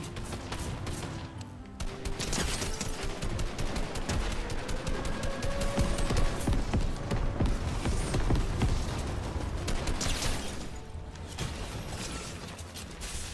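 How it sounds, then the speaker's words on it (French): Dense, continuous gunfire in a video game shooting match, with many rapid shots and mechanical clatter overlapping throughout, loud and steady with no talking. "Ça tire de partout"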